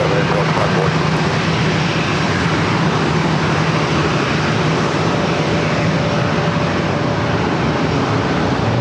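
An airliner takes off on runway 27 at San Diego airport, a continuous loud engine roar and broadband rumble holding steady without a break.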